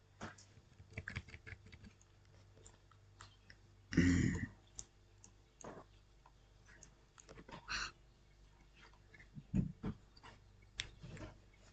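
Computer mouse clicking at a desk, quiet isolated clicks scattered irregularly, with one louder burst of handling noise partway through.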